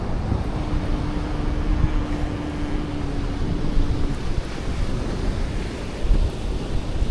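A steady roar of sea waves on a beach mixed with strong southwest monsoon wind blowing across the microphone, continuous and fairly loud throughout.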